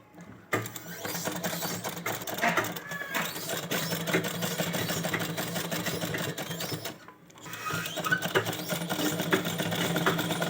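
A sewing machine stitches the sleeve of a baby gown, its needle running in a fast, steady mechanical rattle for several seconds, pausing briefly, then resuming at the same close, even pace.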